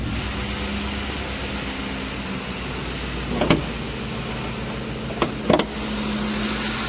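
A 2009 Ford F-150 SuperCrew XLT 4WD idles steadily with a smooth, even hum, with a few brief clicks or clunks partway through and no talking.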